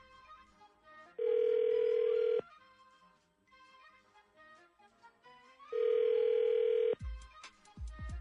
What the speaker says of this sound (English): So this will be Amy's phone number